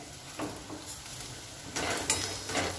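Chopped garlic, ginger and two green chillies go into frying onion for a dhaba-style cashew curry, giving a soft continuous sizzle with scraping stir strokes that grow louder near the end.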